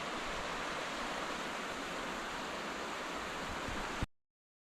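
Steady, full rush of cascading water, loud and continuous like a nearby mountain creek tumbling over rocks at Avalanche Lake in Glacier National Park, cutting off abruptly at the end.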